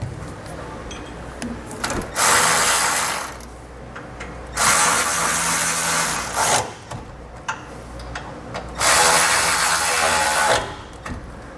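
Bolts on a bracket for Firestone Ride-Rite air helper springs being tightened on a 2018 Ram 2500 truck, with three long bursts of ratcheting wrench noise separated by quieter pauses, close up with no talk.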